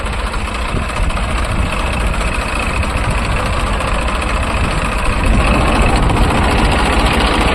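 A 2004–2005 New Holland 3230 tractor engine idling, a steady loud diesel rumble with an even, unbroken chug running throughout, heard close up and alone.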